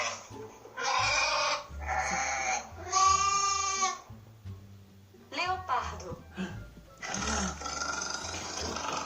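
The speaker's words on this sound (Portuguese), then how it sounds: "Leopardo." Leopard roaring, a series of harsh rasping calls with short gaps between them, loud and close, and no talk.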